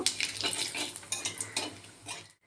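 Cumin and dried red chili fry in a pan, a close crackling sizzle broken by bursts of stirring and scraping against the metal, ending abruptly in a brief silence.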